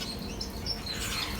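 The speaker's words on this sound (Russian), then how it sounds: "Ой, попугайчики волнистые." Budgerigars chirp and twitter in a quiet indoor enclosure, a soft, continuous flutter of small high calls with a few brighter tweets, faint and steady throughout.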